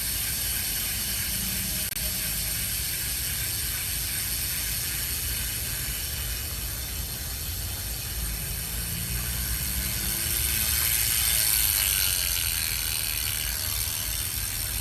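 A Specialized Tarmac Comp SL7 wheel on a WINSPACE 65 Black Edition Hyper wheelset spins freely, its hub ratchet giving a steady, fast, dense buzzing click under hiss, hanging outdoors and coasting with little change in level.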